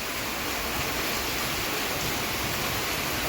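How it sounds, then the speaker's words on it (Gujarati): A heavy downpour roars as a thick, unbroken hiss of rain near an Alleppey houseboat, steady and loud with no voices over it. "પણ મસ્ત ધોધમાર વરસાદ"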